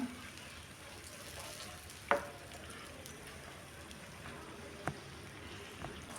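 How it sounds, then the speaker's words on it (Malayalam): A coconut and ginger curry bubbles quietly in a pan over a raised flame, making a faint, steady simmering hiss broken by a few soft clinks. "ഫ്ലെയിം ഒന്ന് കൂട്ടി വെച്ച് നമുക്കിതൊന്ന് നന്നായിട്ട് തന്നെ തിളപ്പിച്ചെടുക്കാം"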